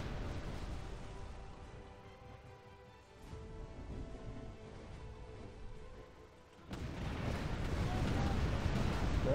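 Ship cannons fire in a pirate naval battle in the Tempest video game, giving dense rumbling booms and bursts over a continuous noisy battle backdrop that swells sharply louder in the last few seconds.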